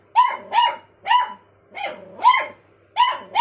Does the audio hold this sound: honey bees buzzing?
no